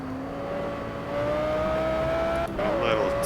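Race car engine in the video game Project Cars, a GT4 Aston Martin, a steady rising whine that shifts up and down as the car drives, with a voice talking over it.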